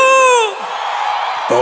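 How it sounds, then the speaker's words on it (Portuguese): A large crowd at a live forró concert in Aracaju shouts and cheers loudly, a sustained roar following a single sung or yelled note, with no clear speech. "Cadê o grito de Aracaju?"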